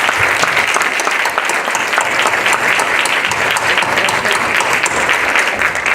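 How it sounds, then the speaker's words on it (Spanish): An audience at the close of a workshop course gives loud, sustained applause, thick and continuous clapping from many people close by for several seconds. "Un aplauso para ustedes y un aplauso para mis dos ponentes."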